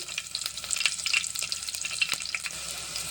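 Dried red chilies and freshly cut green chilies sizzle in hot oil with cumin and mustard seeds, making a steady, close crackle of frying for tomato rice.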